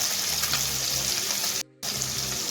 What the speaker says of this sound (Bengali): দেখুন মাছ ভাজার তেল আমি সাদা তেল অ্যাড করে নিয়েছি